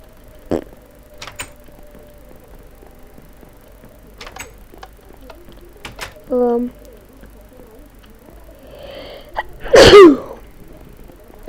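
A single sharp, loud human sneeze bursts out near the end amid quiet room noise and scattered clicks from Minecraft gameplay, with a short vocal sound a few seconds earlier.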